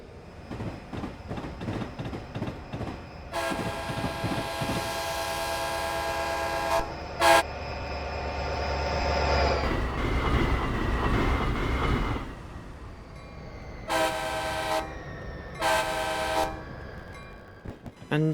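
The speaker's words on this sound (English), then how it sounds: "I'll leave you with some clips of the F40PHL-2's running in Train Simulator" F40PHL-2 locomotives running in Train Simulator, with a steady diesel engine rumble and rail noise broken by several long horn blasts followed by two short toots near the end.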